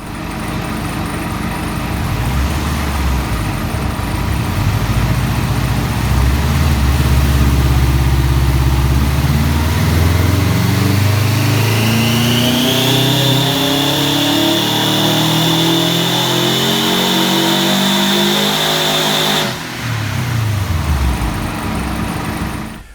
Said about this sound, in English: So check out this dyno power run